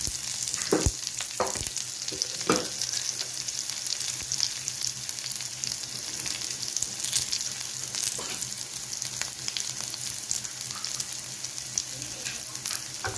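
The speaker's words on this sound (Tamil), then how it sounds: "கருவேப்பிலையும் பெரிய வெங்காயத்தையும் சேர்த்துருக்குறோம்." Curry leaves and large onion, with chana dal, sizzle in a pan, a steady close frying hiss throughout with a few brief stir knocks near the start.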